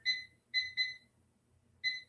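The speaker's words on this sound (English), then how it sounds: "Timer." Kitchen oven timer beeping in short high electronic bursts, a single beep, then a quick pair, then another after a pause, fairly close and clear over a quiet room.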